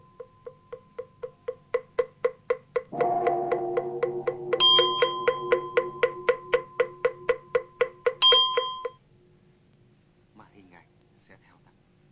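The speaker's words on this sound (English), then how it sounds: "we can even hear the bell of a near pagoda" A pagoda bell in the northern countryside near Ha Long strikes repeatedly at a steady rhythm with a clear ringing tone, joined midway by sustained musical notes, then fades into near silence.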